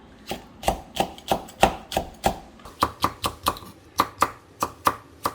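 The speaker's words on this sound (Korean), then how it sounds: "무침에 들어갈 양념 썰어 보겠습니다 고추 두 개입니다" Two red chili peppers being sliced with a knife on a cutting board as seasoning for a deodeok salad, a brisk, steady run of about seventeen sharp, close chops with short pauses between them.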